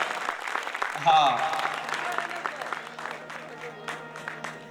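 Audience applause for the musician Rameshbhai at a Guru Purnima dayro in Gandhinagar, a steady crowd clapping that swells after the first second and carries on to the end, with a voice speaking briefly over it.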